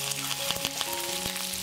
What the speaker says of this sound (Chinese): 这时候把大虾放进来煎一下